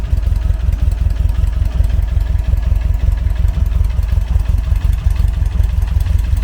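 A Volkswagen Beetle engine idles close by, loud and steady with a rhythmic pulsing chug and light tappety clatter suggesting valves in need of adjustment, running alone without speech.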